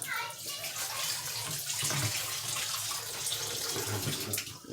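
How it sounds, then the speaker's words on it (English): Water runs steadily from a tap over shrimp soaking in a kitchen sink, a dense continuous splashing rush close by, with faint voices in the background. "Now you soaking the shrimp."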